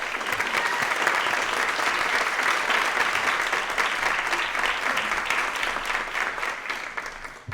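An audience at an artist talk applauds the artist Sanford Biggers, giving steady, full clapping from a sizable crowd that holds for several seconds before tapering at the end.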